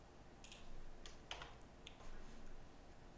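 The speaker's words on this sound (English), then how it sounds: "I'm typing it right." Typing on a computer keyboard while building a JavaScript app: short bursts of soft clicking keystrokes, fairly close and quiet, alone without talk.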